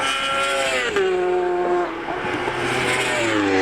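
An orange and black Honda Fireblade superbike races at Cadwell Park, its engine screaming loud at high revs and dropping in pitch as it passes, with another engine droning underneath.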